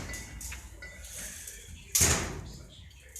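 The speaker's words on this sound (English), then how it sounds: "But it shuts nice on them rubber seal. I mean, you can hear it." A steel boat's wheelhouse door shuts against a rubber seal with one firm, muffled thud near the middle, preceded by softer handling noises and quiet rustle.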